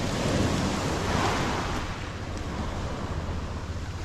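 Surf breaking on a beach by clear blue water, a steady broad wash of waves with some wind noise, loud and close throughout with no voices.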